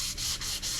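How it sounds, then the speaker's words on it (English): Wood pieces for a DIY taxidermy ram pack mount being sanded smooth by hand with sandpaper, giving steady close scraping strokes in a regular back-and-forth rhythm. "sand it smooth"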